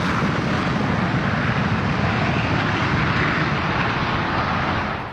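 JF-17 and F-16 fighter jets taking off together, a loud, steady roar of jet engines filling the whole stretch with broad rushing noise, no voices.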